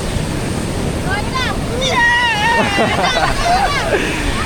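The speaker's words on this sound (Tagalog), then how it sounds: "lumalakas na yung alon." Ocean surf off Bataan, Philippines, washes and roars steadily under wind noise as the waves grow stronger, while voices shout and talk excitedly over it.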